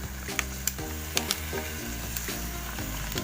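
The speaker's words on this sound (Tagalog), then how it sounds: "Lagyan natin ng toyo" Soy sauce goes into chicken feet adobo in a hot pan, bringing a steady close sizzle and frying crackle with small pops and stirring clinks throughout.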